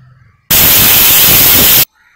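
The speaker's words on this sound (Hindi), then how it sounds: "ये हमारी बिसल आ गई है," A pressure cooker whistle releases a loud, steady hiss of steam, bursting out abruptly, holding for over a second, then cutting off sharply.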